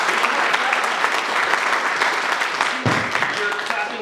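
Audience clapping at a conference: a steady, loud wash of many hands applauding throughout, with a brief voice or thump near the end.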